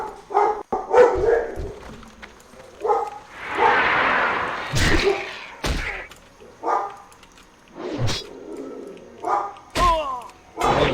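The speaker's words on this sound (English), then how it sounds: "Sorry, my dogs are barking like crazy." Several dogs bark in short loud bursts scattered between stretches of conversational talk, with a couple of thumps and a noisy rush midway; the barks sound near and excited, coming in an irregular rhythm.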